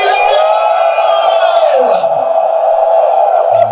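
A church congregation gives a loud, sustained collective shout of salute during a worship service, a long unbroken roar of many voices that drops slightly partway through.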